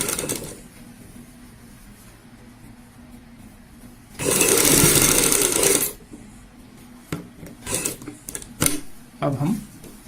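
A sewing machine stitches fabric for a halter neck blouse in one loud, steady whirring burst of about two seconds, preceded and followed by quieter handling noises and talk.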